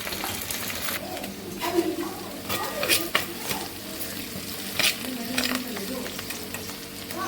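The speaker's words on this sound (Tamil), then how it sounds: "ஆயில் ஊற்றிருக்கங்க இப்போ தாளிச்சுக்கலாம் மீன் குழம்புக்கு தாளிப்பு" Spices sizzle and crackle in hot oil in a pan for fish curry tempering, with onion, dried red chili, curry leaves and turmeric, while a utensil stirs and clinks against metal now and then, fairly quiet and steady.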